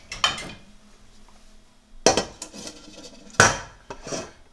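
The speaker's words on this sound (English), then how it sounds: "So literally a drop going in, and the lid going on." A metal lid clatters onto a pot of semolina halwa in a home kitchen, with three sharp clinks spaced a second or so apart and quieter rattles between them, close and fairly loud.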